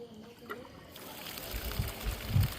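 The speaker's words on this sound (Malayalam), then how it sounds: "അങ്ങനെ പൈപ്പിൽ കൂടെ വെള്ളമാണ് ചാടിയപ്പോൾ എല്ലാവർക്കും പെരുത്ത് സന്തോഷമായിട്ടാണ്." Water starts gushing from a pipe after a pump motor kicks on: a soft, faint background gives way after about a second to a rising, rushing splash that grows louder toward the end.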